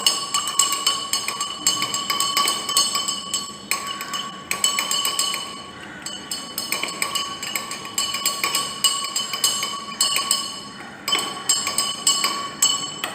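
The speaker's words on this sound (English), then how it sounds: "add some common salt and mix it well with the help of spoon or spatula" A spoon stirs common salt into water in a glass beaker, ringing as steady rapid clinks against the glass, loud and close, with brief pauses between bursts and no talking.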